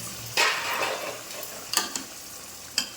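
Rice fries with masala in hot oil, giving a steady close sizzle broken by several sharp scraping stirs of a spoon against the pan.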